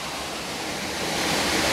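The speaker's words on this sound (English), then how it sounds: "This is my beautiful secret waterfall." A small secret waterfall surrounded by green forest pours with a constant broadband rush, close and fairly loud, swelling slightly toward the end with no voices.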